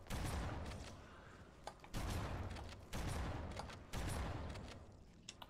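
Mounted turret gunfire in Halo Remastered: loud rapid bursts of automatic fire roughly once per second, each burst fading before the next, with no talking.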